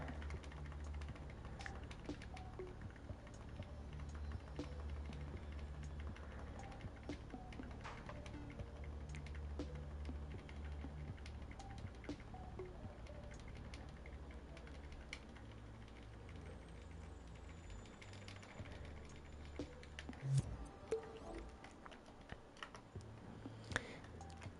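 Keys tapped at a steady, fairly quiet pace on a keyboard while someone works on a PlayStation Dreams game project, a soft continuous clatter with a couple of sharper knocks near the end.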